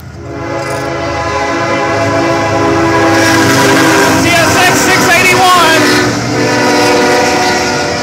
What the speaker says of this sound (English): Freight train blasting through Altamont.